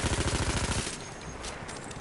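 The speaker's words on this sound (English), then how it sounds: "Try your anti-aircraft gun for the assault class." An anti-aircraft gun fires in the Battlefield 1 video game as a rapid, loud burst of repeated booming shots that cuts off and leaves a rumbling, noisy tail.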